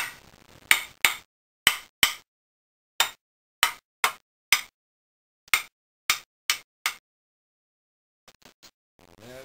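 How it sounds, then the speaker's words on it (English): A wooden mallet pounds a part down onto the posts of a Norwalk juicer being converted to a 275 hybrid model. It gives about fourteen crisp, close knocks in uneven groups, then a few faint taps and handling noise. "in this case I'm going to use a wooden mallet to pound it down."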